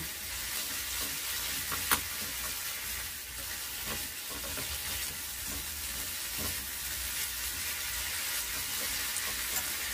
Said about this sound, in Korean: 그리고 또 달달 볶아주세요.